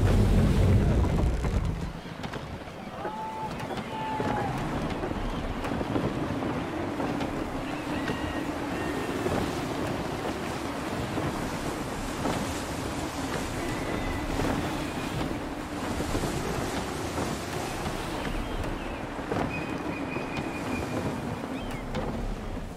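Gusty wind rushes over the open sea in Assassin's Creed III, a steady roar mixed with breaking waves and creaking sailing ship sounds, loud and continuous with a heavy burst at the start.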